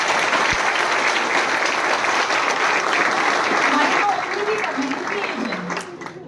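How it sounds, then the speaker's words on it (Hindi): Audience at a gathering for selected army candidates applauding loudly, dense clapping that fades toward the end as a voice begins speaking underneath. "जोरदार तालियां बजाओ"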